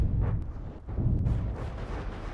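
Missile explosions hitting the Solaris ship in the naval combat game From The Depths, a continuous deep rumbling roar of overlapping blasts with a couple of sharper impacts, loud and heavy.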